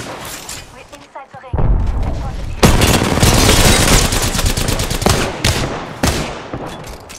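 Video game battle with a frag grenade thrown, a heavy blast followed by sustained rapid gunfire and explosions, loud and dense throughout with brief gaps.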